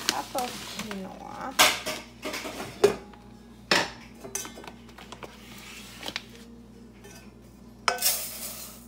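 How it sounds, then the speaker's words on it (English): Dry organic quinoa, about a cup, goes into a pot amid kitchen clatter, with sharp clinks and scrapes of utensils and cookware, brief pouring rustles, and a faint hum behind. "All right, so I'm gonna add a cup of quinoa."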